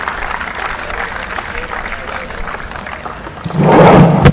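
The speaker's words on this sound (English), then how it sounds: "You can hear the roar because it is now match point." The crowd at a WTA women's tennis tournament in Mumbai murmurs and claps at match point, then swells into a loud roar near the end. A commentator talks over the noise.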